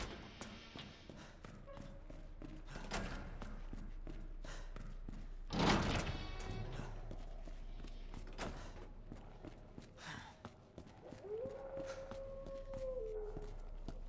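Dogs howl in the Resident Evil 2 video game, a faint, drawn-out wail rising near the end over low ambient rumble, preceded by a sharp thud and scattered knocks.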